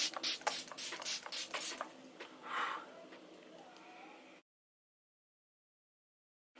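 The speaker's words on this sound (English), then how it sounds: "So I'm going to spray my whole face." Fix Plus setting spray is misted over a face in several quick, close pump bursts with soft hissing, then the sound stops into silence.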